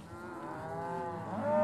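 A cow moos in one long, drawn-out low call that swells louder toward the end, with no one talking.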